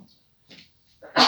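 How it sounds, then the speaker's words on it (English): A couple of soft, breathy inhales build up to a single short, sharp sneeze at the end, close and fairly loud. "Excuse me, I'm going to sneeze."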